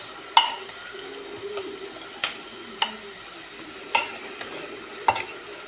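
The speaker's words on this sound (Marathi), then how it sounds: "उगा अलगद हाताने अशी मॅश करून घ्यायची आहे" Cooked vegetables with browned onion are mashed and stirred in a pan, with soft wet squishing and a few sharp utensil clinks against the pan spaced out at irregular intervals, close and moderately loud.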